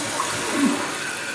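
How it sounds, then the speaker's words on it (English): Water rushes steadily into a Champion toilet tank through the newly opened fill valve after the flush valve seal is replaced, a constant close hiss and trickle without speech. "Okay, now the tank is filling."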